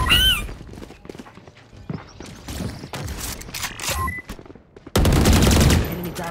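Phantom rifle fire in Valorant comes in sharp, rapid bursts of close shots with short pauses, ending in a louder sustained volley, mixed with other game sounds and a faint voice.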